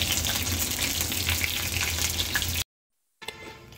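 Mushroom pakoras frying in hot oil make a dense, even bubbling sizzle close by, broken by a short gap of silence before quieter sizzling resumes.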